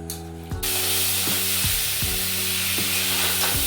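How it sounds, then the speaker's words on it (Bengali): Prawns frying in a pan with a little salt and turmeric give a steady, loud sizzle that starts after a short quiet lead-in, with recurring tonal hum and occasional stirring scrapes. "এরপরে এটাকে সামান্য নুন হলুদ দিয়ে ভেজে নিচ্ছি"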